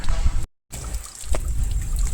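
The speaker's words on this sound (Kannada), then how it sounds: "ಚಿಟ್ಟೆ ಪಾರ್ಕ್ ಒಳಗಡೆ ಫಾಲ್ಸು." A small waterfall inside a butterfly park at the Mysuru zoo trickles and splashes continuously nearby, a steady broadband wash broken by a brief dropout, with faint voices in the background.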